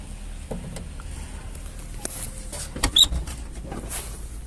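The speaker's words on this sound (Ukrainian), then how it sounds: "Зараз я відкрию дверцята." The small door of a homemade electric car, converted from an invalid carriage, is opened with a few clicks and latch rattles, near and fairly quiet over a low background hum.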